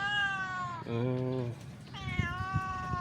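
A trapped cat meows three times up close, long drawn-out cries with a lower, rougher middle call, over faint background noise.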